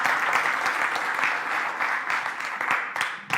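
A crowd at a cybersecurity event gives a sustained round of hand-clapping that thins toward the end, with a few louder individual claps near the finish.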